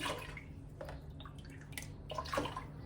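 Excess whey drained from homemade brine cheese into a bowl, a soft trickling pour with scattered drips and splashes, quiet and close, with no talking.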